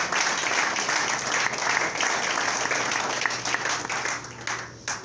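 A church congregation applauds God in steady, dense clapping that fills the room, loud and continuous with crowd noise underneath and no break until it tapers slightly at the end.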